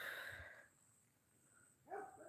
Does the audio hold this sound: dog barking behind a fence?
yes